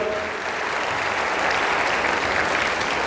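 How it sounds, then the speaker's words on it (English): Seminar audience claps continuously for student Aditya at a CAT and MBA entrance exam talk, a loud, dense and even round of applause with no speech over it. "let's give a big round of applause to Aditya"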